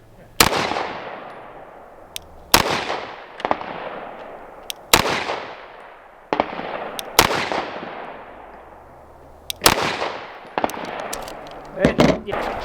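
Sharp gunshots from a Rock Island Armory 1911-style pistol at a shooting range, about eight loud close reports spaced a second or two apart, each with a ringing decay, plus faint voices between shots.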